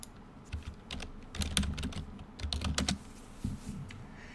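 Keystrokes on a computer keyboard as a git command is typed, a quick uneven run of close, crisp clicks with short pauses between bursts.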